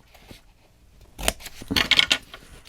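Scissors make a few crisp snips through paper while crafting a photo album, quiet and close with short gaps between cuts.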